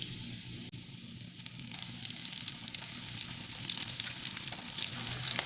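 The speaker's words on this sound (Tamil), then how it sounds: "இப்போ நம்ம இதை எண்ணெயில் போட்டு பொரிச்சிடலாம்" Potato lollipops frying in hot oil, a steady crackling sizzle with fine popping, close and moderately quiet, building slightly over time with no talk.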